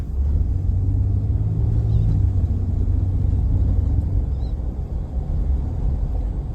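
Steady low engine rumble of a Ford F-150 Raptor V6 pickup truck driving, continuous and fairly loud with road noise, no voices.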